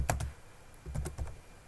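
Computer keyboard keys clack in short pairs of quick taps, close and fairly soft, with a brief pause between the clusters while someone types code.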